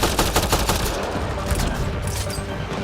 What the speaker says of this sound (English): Why you shooting at me from my right?